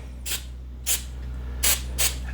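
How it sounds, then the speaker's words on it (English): Four short hissing bursts of aerosol spray paint on the nose of a scale model spaceship, evenly spaced over a steady low hum, fairly faint and with no voices. "I'm just spraying the nose a little bit, and you can probably hear the spray off camera"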